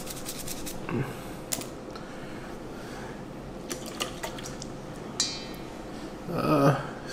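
Brush scrubbing a luxury watch during cleaning, steady faint scratching with occasional light clicks and a wet swish near the end, close and low in level.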